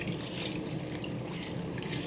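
Tap water runs steadily into a sink while collard and mustard greens are washed, a continuous close splashing stream with no talking.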